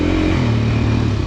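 A 2024 Beta dirt bike engine revving loudly up close, a steady throaty roar with a rising pitch.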